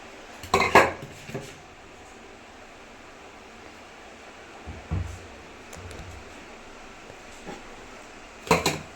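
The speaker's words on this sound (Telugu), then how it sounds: "కొంచెం పెద్ద గిన్నెలను తీసేసుకోవాలి" Large cooking pots and vessels are picked up and handled in a home kitchen, producing a few loud metallic clanks near the start and end, with quiet gaps between.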